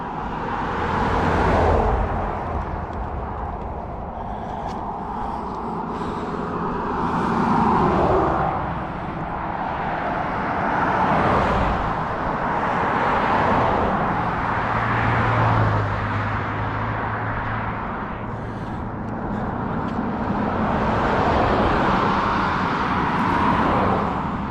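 Steady road traffic heard while walking along a street, a continuous broadband roar with vehicles swelling and fading as they pass nearby, a low engine drone in the middle, no voices.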